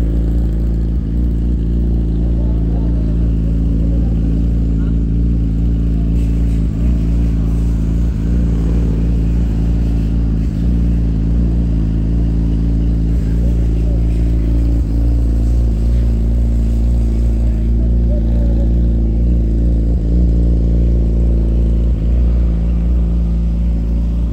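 An overhauled Yamaha R6 motorcycle engine runs close by at a steady, continuous idle, loud and unbroken from start to finish, with no voices.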